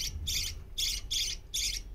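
Pet budgerigars give harsh, squawking chirps in three or four rapid bursts, close and fairly loud, with no talking.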